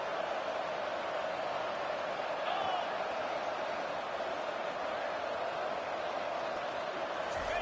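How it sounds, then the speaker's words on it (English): A packed college football stadium crowd roars steadily through a tense two-point try to win the game, a dense, continuous wall of noise with no breaks and no clear individual voices. "And this crowd is deafening, trying to will the stop."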